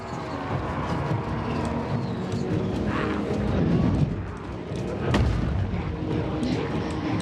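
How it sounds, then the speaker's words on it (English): Rocks exploding in a Warhammer fantasy battle game, a rumbling wash of booms and artillery-like blasts over steady battle noise, with a sharp louder crack near the end. "Explodey rocks."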